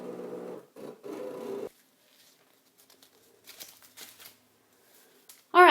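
A Cricut machine cuts a gift bag shape from a cartridge, giving a humming motor whir in short bursts, then quiet light patters and rattles, ending in a louder close scrape.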